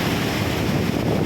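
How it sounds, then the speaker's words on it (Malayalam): A waterfall roaring near a small dam after rain, a dense, loud, constant rush of falling water heard close up, with wind buffeting the microphone and no other sounds. "ഞാൻ പറയുന്നത് കേൾക്കാൻ പറ്റത്തില്ല, കാരണം ഈ വെള്ളച്ചാട്ടത്തിൻ്റെ സൗണ്ട് കൊണ്ടേ"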